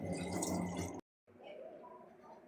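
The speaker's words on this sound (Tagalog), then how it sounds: "Hugasan natin ang ating pakbet na gulay." Pakbet vegetables being washed in water, a steady splashing, running-water wash close by that cuts out briefly and resumes more softly.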